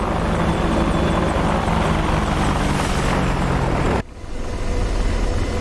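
An AH-64D Apache helicopter in the flight sim DCS World flies low, its rotors and turbines producing a loud, steady, close whirring roar that drops away abruptly toward the end.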